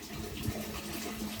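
Cool drinking water runs steadily from the tap of a water cooler at a school, a continuous close splash and gush holding even for its short length, with no talk over it.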